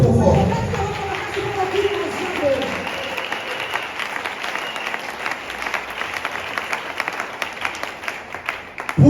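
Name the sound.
congregation applauding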